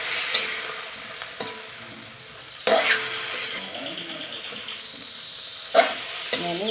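Cassava leaves cook in a pan as water is added, giving a sizzling bubbling bed broken by repeated scraping stir strokes and a few sharp clanks, fairly close and moderately loud.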